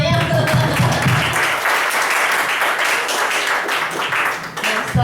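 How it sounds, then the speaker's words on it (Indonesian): An audience claps together in response to a nervous speaker's request, a dense, loud burst of applause that holds steady for several seconds before thinning out. "beri tepuk dulu dong semuanya"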